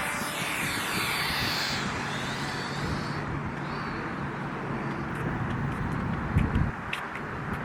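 A drone lifts off and flies outdoors over a real-estate property, its steady buzzing whir loud and close throughout, with a broad wind-like roar that shifts as it climbs away.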